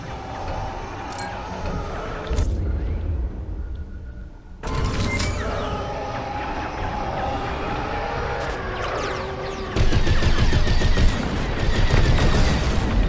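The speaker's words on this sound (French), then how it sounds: "On me tire dessus! Je suis sous le feu ennemi!" Blaster fire from enemy starfighters in the Star Wars Squadrons space combat game: dense, loud rapid bursts of shots and impacts over a droning engine and score bed. A voice speaks briefly amid the barrage, which swells heavier near the end.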